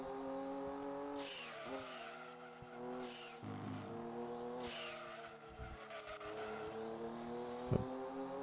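Race cars in Gran Turismo 2 on PlayStation 1 roar around a track, engines rising and falling in pitch with gear changes and tire squeal as they pass, some sounding close and others farther off.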